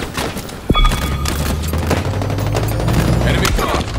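Gunfire in a Halo Infinite multiplayer match, with a sharp loud blast early on, then sustained rapid bursts over a dense, constant battle din and game tones.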